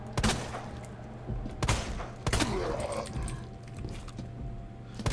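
Resident Evil 2 gunshots ring out as Leon fires, three or four loud, sharp blasts spaced about a second apart, each followed by echoing tail over a low game drone, no talk.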